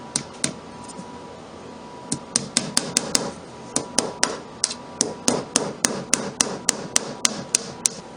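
A hammer drives 7/8 inch brad nails into lumber while building a desk, producing a long run of sharp, close taps that start sparse and then settle into a steady, quick rhythm.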